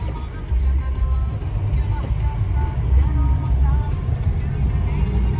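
A green bus rumbles past on a nearby street, giving a loud, steady low engine drone that swells slightly as it goes by. Voices talk over it.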